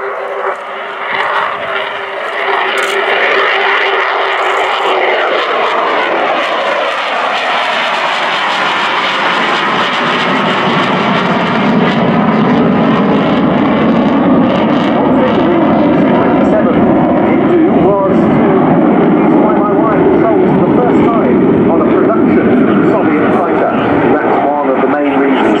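A Su-27 Flanker jet fighter, a large twin-engine aircraft with a 15-metre wingspan, roars through a flying display at an air show. The loud, continuous engine thunder swells and shifts in pitch as it passes, and a commentator talks over it.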